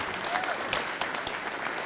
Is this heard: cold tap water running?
no